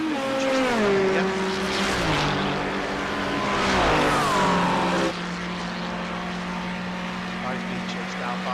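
Race car engines in the Bongo World Series racing video game, with a McLaren and a Ferrari among the cars: a steady high engine whine with gear-shift pitch drops and a passing car swelling, under a commentator's voice.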